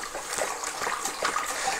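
Demineralized water pours steadily into the cooling box of a dry cooler for an immersion crypto-mining enclosure, a continuous close splashing trickle.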